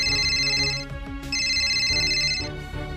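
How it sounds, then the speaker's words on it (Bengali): A phone ringtone for an incoming call plays loudly and close, in two melodic bursts separated by a brief break, with no one talking. "এবার আমার কল আসছে।"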